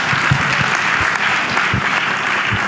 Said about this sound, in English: Can you clap for guys?